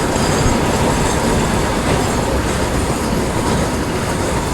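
Train on the Konkan Railway in India rolling through a level crossing, a loud, steady roar of wheels and wagons close by with rhythmic clickety-clack and faint wheel squeal throughout.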